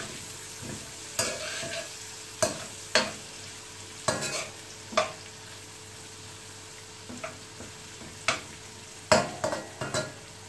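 Onions soften in a frying pan under a low, steady sizzle, with crisp spatula scrapes and knocks against the pan every second or so, sometimes in quick clusters.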